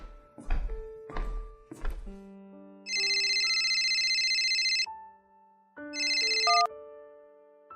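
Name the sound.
mobile phone ringtone ringing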